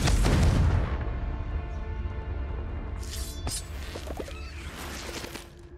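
Confringo blast spell in Hogwarts Legacy: a loud booming burst at the start that rolls into a sustained rumble, with lighter crackles and sparkly flashes later over a continuous game soundscape.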